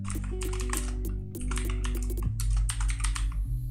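Rapid clicking keystrokes on a computer keyboard as code is typed, close and distinct, in quick uneven bursts with a brief pause, no speech over it.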